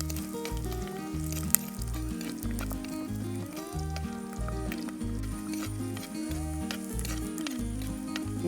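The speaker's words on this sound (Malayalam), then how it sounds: "ഇഞ്ചിയും വെളുത്തുള്ളി ഒരുവിധം നല്ലതുപോലെ വഴന്നു വരണം" Garlic cloves and long-cut ginger sautéing in oil with popped fenugreek for a white lemon pickle, a steady close sizzle running under a rhythmic low thumping beat throughout.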